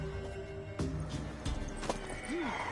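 A mare in The Witcher 3 gives a few distinct hoof clops and a short neigh, moderately close and fairly quiet, set against a light ambient background with no talking.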